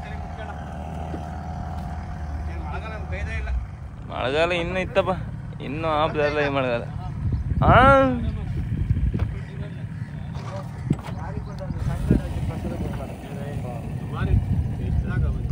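A boat engine runs as a low, steady rumble, clearest alone at the start and then continuing under close conversation between several people.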